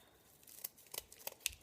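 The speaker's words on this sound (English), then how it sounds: "take your scissors and give it a little haircut" Several quick, crisp snips of scissors, fairly close and quiet, spaced irregularly with brief pauses between cuts.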